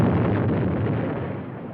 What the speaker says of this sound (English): That explosion is bound to bring a lot of people out.